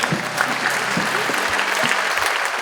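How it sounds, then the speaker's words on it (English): An audience at an evening design talk breaks into applause, a brief, dense burst of many hands clapping together at moderate loudness, filling the room without any clear voices. "si vous voulez applaudir."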